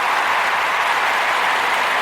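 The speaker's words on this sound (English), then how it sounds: "Round of applause for that shit" Dense, even applause, loud and close, with no voices over it.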